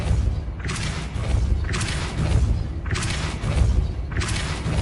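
Repeated magical blasts from the Depulso spell in the video game Hogwarts Legacy, four loud whooshing bursts with deep thumps arriving at roughly one-second intervals over a rumbling background.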